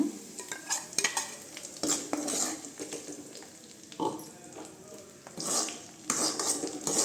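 Ground tomato is added to sautéed onions and stirred in a pan for a spicy drumstick and brinjal kara kuzhambu: repeated clattering spatula scrapes and knocks against the pan over a faint sizzle, irregular and close, without talk.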